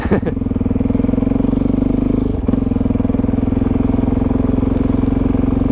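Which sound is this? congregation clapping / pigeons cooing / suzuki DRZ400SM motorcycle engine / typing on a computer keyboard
suzuki DRZ400SM motorcycle engine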